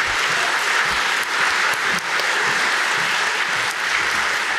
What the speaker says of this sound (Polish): Podziękujmy brawami naszej tłumaczce, pani Annie Pieniążek.